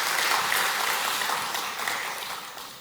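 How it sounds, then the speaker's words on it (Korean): A church congregation at a Wednesday service claps together after a hymn, a full, steady wash of applause that gradually thins toward the end, with no voices over it. "우리 다 같이 박수로 격려하겠습니다"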